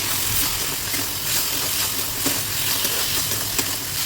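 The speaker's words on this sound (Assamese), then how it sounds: "আৰু মছলা দিয়াৰ পিছত মছলাখিনি ভালদৰে ভাজিব লাগিব" Spices fry in a pan with soybean chunks and ridge gourd, making a loud, steady hissing sizzle with faint scraping, up close and uninterrupted.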